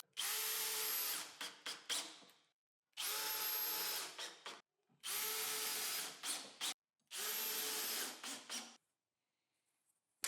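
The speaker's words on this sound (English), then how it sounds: "I drill all the necessary holes and fasten them with screws." A power drill bores holes in wood and plywood in a home workshop, four close, loud bursts of whirring, each about two seconds long, separated by short pauses.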